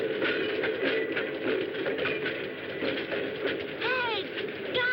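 Rumbling rail noise of a train running along the track in a film, a steady loud roar with faint screeching metallic tones near the end.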